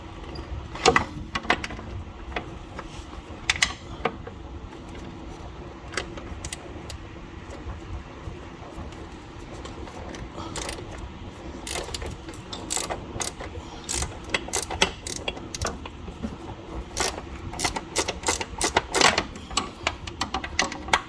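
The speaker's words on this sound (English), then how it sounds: "And lock my wrench. Do the same thing." Ratchet wrench clicking while loosening front suspension bolts on a Lexus GS430 during an A-arm and ball joint job, with repeated short bursts of ratcheting close up over a steady garage background.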